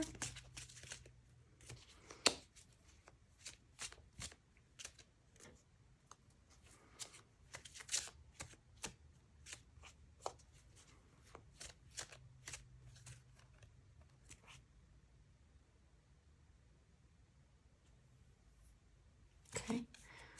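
Deck of tarot cards being shuffled, faint crisp riffles and taps arriving in irregular bursts, then a louder riffle near the end, close and quiet.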